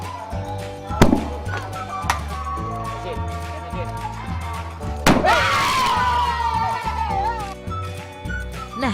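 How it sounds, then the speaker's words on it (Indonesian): Two sharp, loud bangs from a plastic-bottle carbide cannon burst out a few seconds apart over a steady background hum, the second followed by a rushing, crackling tail. "Botol pun akan mengeluarkan suara ledakan beserta apinya."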